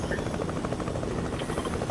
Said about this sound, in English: Chopper. Come.